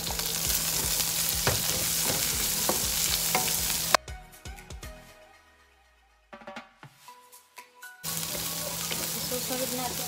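Onion and ginger sauté in a hot pan for Filipino chop suey, a loud steady sizzle that cuts out for a few seconds of quieter clatter before the full frying hiss returns.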